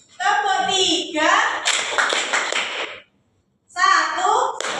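Children clap hands in a rhythmic classroom clapping game, sharp claps mixed with young voices chanting, a brief pause, then more clapping and chatter close by.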